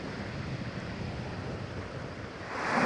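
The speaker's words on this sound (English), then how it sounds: "the waves will hit the rocks a little better and keep them clean" Small waves wash against rocks on a Lake Michigan shore at Wilderness State Park, a soft continuous surf hiss with wind buffeting the microphone, swelling louder near the end.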